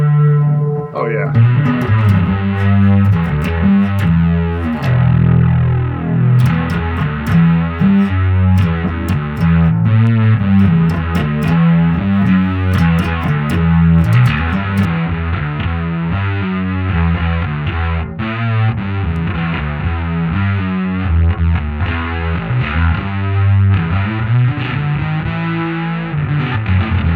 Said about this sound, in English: let's kick in that fuzz.